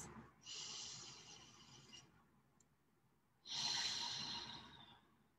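During a quiet meditation, a slow, deep breath is drawn in and then released. The two long, airy swells sit close to the listener and are separated by a short silence.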